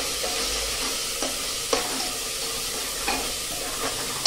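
Spice paste for aloo baingan sautéing in oil in a pan, a steady close sizzle and fry with a few soft stirring scrapes, no talking.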